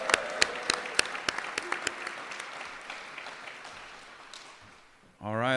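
Audience at an apprenticeship graduation claps for the graduating class, sharp individual claps standing out over a broad wash of applause that gradually thins and fades before a voice begins speaking.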